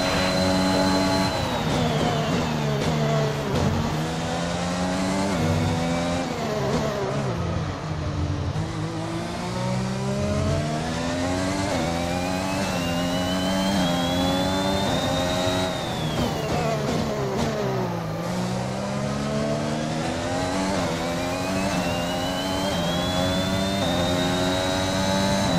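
Formula 1 race car engines in the racing game F1 2021 scream steadily, their pitch rising through the gears and dropping under braking in repeated sweeps, loud and continuous throughout.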